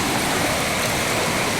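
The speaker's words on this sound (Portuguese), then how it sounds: "Cachoeira do Rio Cachaça" Waterfall on the Cachaça river in Brazil, a loud, steady, broadband roar of falling water heard close up and alone.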